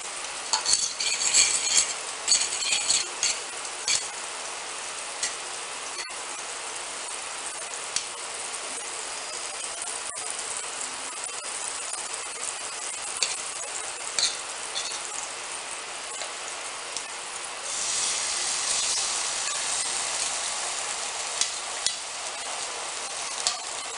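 Scrambled egg sizzles steadily in melted butter in a pan, with occasional stirring and utensil scrapes and a brighter, louder hiss in the last few seconds; no one speaks.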